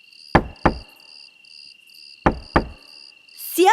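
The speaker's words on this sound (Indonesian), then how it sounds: "Coba ketuk beberapa pintu" Two pairs of sharp knocks on a wooden door, loud and close, with a faint steady cricket-like tone underneath in a storybook night scene; a brief rising whoosh follows at the end.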